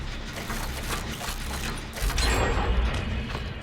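Generator repair in Dead by Daylight Mobile: a continuous clattering mechanical churn of gears and pistons, loud and busy, swelling slightly partway through, no talk.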